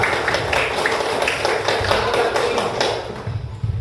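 A group of primary school children clap their hands in a classroom, a quick burst of rhythmic, fairly close claps that continues steadily before tapering off, with brief voices near the end.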